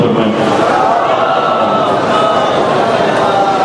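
A congregation at a Shia majlis gathering in Jogipura, Bijnor, India, chants salawat loudly together, a dense, sustained wall of massed voices filling the hall without a break.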